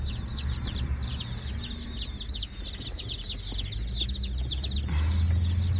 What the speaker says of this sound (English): We got the chicken. They're in the back chirping.